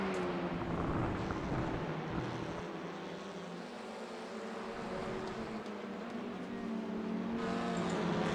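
Sim racing cars lapping Brands Hatch in a video game race, a steady blend of engine drone and tyre noise holding a constant loud level throughout, with no voices over it.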